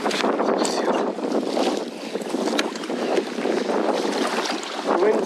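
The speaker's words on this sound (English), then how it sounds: "It might be windier than it was forecast to be." Gusty wind buffets the microphone out on open sea off Scotland, a rough, fluctuating roar with splashing and rocking sounds of a fishing kayak.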